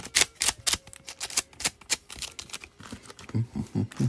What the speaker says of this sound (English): Snipping this.